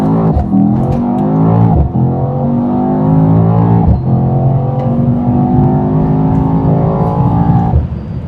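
A 2020 Mercedes-AMG E63s with a stock V8 bi-turbo engine and 4MATIC+ accelerates hard, its loud revving engine climbing through several gear shifts with brief dips between rising sweeps.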